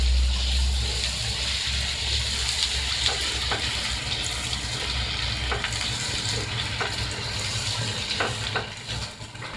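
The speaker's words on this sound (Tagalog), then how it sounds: "Lagay na po natin yung garlic. Hayaan po natin siyang, igisa po natin siya hanggang sa maging brownish." Garlic sautés in oil in a pan for a shrimp-paste dish, giving a steady, fairly loud sizzle with faint scraping and clinks throughout, and no voices.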